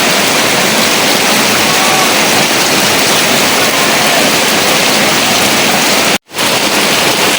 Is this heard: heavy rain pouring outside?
yes